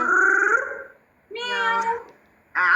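A person imitates a cat, giving three close, clear meows with pauses between them, the first drawn out and the last two shorter.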